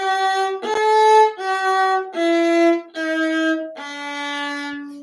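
Viola playing a slow scale in a 1-2 finger pattern with a low second finger, five or so bowed notes stepping downward, close, clear and unaccompanied.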